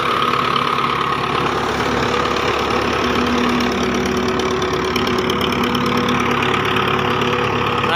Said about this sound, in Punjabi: ਆਹ ਵੇਖ ਸਕਦੇ ਹਾਂ ਰੇੜੇ ਦੇ ਉੱਤੇ ਟਰੈਕਟਰ ਖੜ੍ਹਾ।